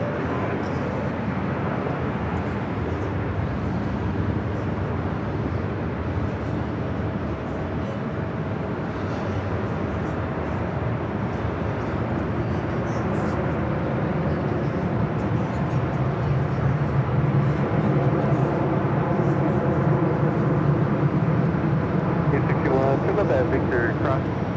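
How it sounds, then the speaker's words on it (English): A Singapore Airlines Airbus A350 taxis at Los Angeles International Airport toward runway 25 right, a steady broad engine rumble and whine heard at a distance throughout, with airport ambience and radio chatter faintly audible. "Singapore, flight 35, the A350, heading back to Singapore, heading to 25 right on the south side."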